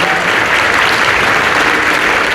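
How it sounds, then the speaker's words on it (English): Audience applause at a Comic-Con convention panel for an animated film: a steady, dense round of clapping that fills the room close and loud from start to finish, with no talk over it. "round of applause for"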